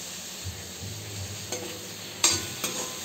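Tomato and salt cook in a pan for soya pulao, a soft sizzle under light stirring, with a few sharp scrapes and taps of a utensil against the pan.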